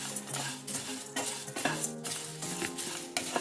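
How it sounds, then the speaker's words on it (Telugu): Drumstick leaves frying in a pan while a spoon stirs them, with repeated scraping and clinking strokes over a steady sizzle, close and fairly loud. "మనము ఇంకా మునగాకు వేయించుకుందాం"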